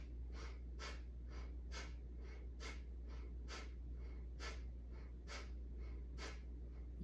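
Slow, steady breaths drawn in and let out during a guided practice, a soft repeating airy rhythm with several cycles, faint and close over a low constant hum, no talking.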